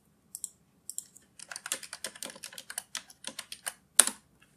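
Fingers type on a computer keyboard, with a few scattered keystrokes and then a quick run of close, crisp clicks, ending on one louder tap.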